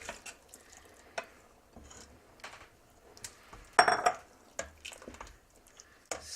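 Chopped beets are stirred into a pot of creamy borscht, scattered close wet squelches and spoon knocks against the pot in an irregular rhythm, with no talking.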